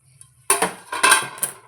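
A lid comes off a covered pot of upma, with a quiet bubbling before a sudden metallic clatter and a few short clinks of metal on metal, close and fairly loud.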